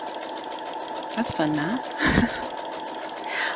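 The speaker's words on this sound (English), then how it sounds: "I'm starting by sewing these two together at a time, right sides together." A sewing machine joins Double Wedding Ring quilt pieces right sides together, running in short close bursts while a person talks over it.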